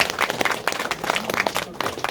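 Audience applause at a Korean organic farming convention ceremony as a dignitary is introduced, a dense, steady wash of many hands clapping at moderate distance with no speech over it.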